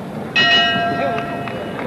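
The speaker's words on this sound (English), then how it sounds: "And there's the bell." A boxing ring bell rings once to end round one of the 1971 Ali vs. Ellis heavyweight fight, a bright metallic clang that decays over crowd noise.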